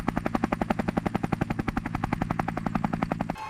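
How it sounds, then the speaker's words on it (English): A helicopter's rotor chops in rapid, steady pulses, loud and close, continuing evenly before cutting off near the end. "I'm helicopter. I say chop chop."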